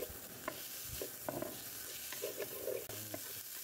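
Chopped onions sautéing in a pan for a mussel soup: a continuous close sizzle with a spatula scraping and stirring in irregular strokes, with no voices.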